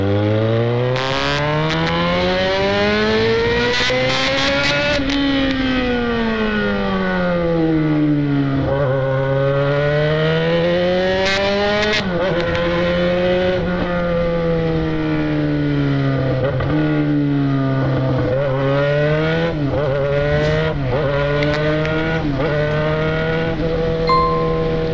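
A Yamaha XJ motorcycle with an aftermarket exhaust pipe revs hard in a city centre, its loud, close engine note rising and falling in long sweeps, with sharp blips between sustained revs.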